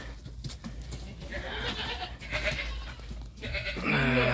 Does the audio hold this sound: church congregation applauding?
no